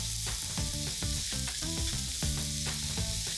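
Fresh spinach and onions sauté in a pan, sizzling continuously with repeated scraping and stirring strokes over a steady frying hiss.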